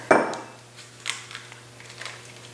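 A scoop clatters loudly against a wax warmer as soft wax cubes are dropped in, one sharp knock followed by a few faint lighter taps and scrapes in a quiet room.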